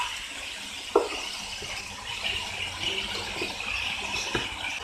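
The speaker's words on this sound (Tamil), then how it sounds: "இதுக்காக நம்ம கொஞ்சமா தண்ணி தெளிச்சுக்கலாம்." Water sprinkled over vegetables cooking in a pan for masala rice brings a soft, continuous hiss of sizzling, with a sharp clink near the start and another near the end, all fairly quiet and without speech.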